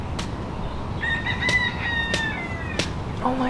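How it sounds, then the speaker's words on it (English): Chickens cluck and crow nearby over a noisy outdoor campsite background, with a rooster's drawn-out call in the middle and scattered short clucks. "Good morning, chickens."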